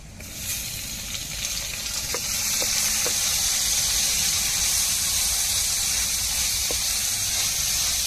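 Chopped tomatoes hit a hot oiled pan, setting off a loud, steady sizzle and hiss that swells and holds, with a few faint clicks of stirring.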